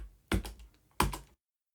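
Two short bursts of computer keyboard typing while entering a name during a Debian installation in a VirtualBox virtual machine, quick clustered key taps close by, followed by silence.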